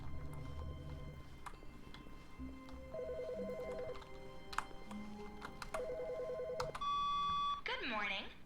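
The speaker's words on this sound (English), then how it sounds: "There's the phone." A telephone in The Stanley Parable video game rings and chirps in repeated electronic bursts over a low background hum, fairly faint, ending with a sustained tone and a warbling sound.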